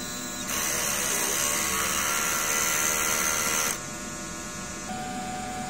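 A DTF printer running a head cleaning gives a steady mechanical whir and hum that swells for a few seconds, then drops back to a quieter drone.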